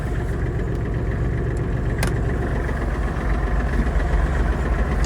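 A Kubota GL-25 mini tractor engine runs at a steady idle-like drone, a loud, continuous low rumble with constant vibration and no voices.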